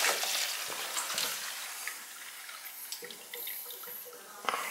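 Water drains and gushes from a hot water system with the feed shut off, a faint, continuous hiss and trickle with small splashes and clanks.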